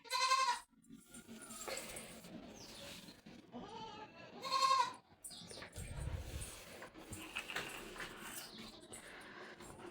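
Sheep bleat twice at a village home, one short call at the start and another around the middle, fairly close, over steady low rustling background noise with no talking.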